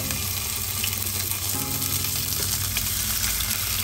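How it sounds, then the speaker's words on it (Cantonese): Fish fries in oil in a wok over medium heat, a loud, continuous crackling sizzle held close with no pauses or talk. "咁我哋就用翻一個中火啦，煎香佢兩邊先。"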